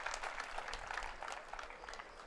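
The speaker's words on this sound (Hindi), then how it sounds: "जोरदार तालियां अर्जुन भाई की परफॉर्मेंस के लिए" Faint, brief applause from an audience after a performance at a peace march programme for the Swachh Bharat Abhiyan, a soft ragged patter of claps heard alone at some distance.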